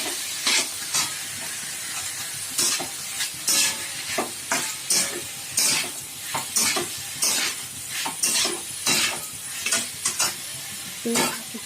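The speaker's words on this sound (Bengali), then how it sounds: "সিদ্ধ করা চটকানো মোচাটা কড়াতে দিয়ে একটু ভালো করে নাড়াচাড়া করতে হবে" Boiled, mashed banana flower being stirred as it fries in a wok for a vegetarian Bengali curry, with a steady sizzle under repeated scraping clinks of a spatula against the pan, close and fairly loud.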